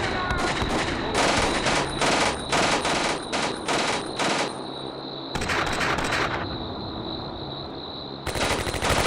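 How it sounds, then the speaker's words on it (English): Machine gun fire from the video game Combat Mission: Beyond Overlord, with rapid sustained bursts that stop briefly and then resume, loud and dense throughout. "Oh, they're shooting across."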